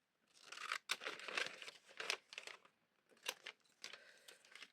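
Paper being cut and torn from a free Kaufland supermarket magazine, close and crisp, with repeated rasping tears and crinkles in short bursts separated by brief pauses.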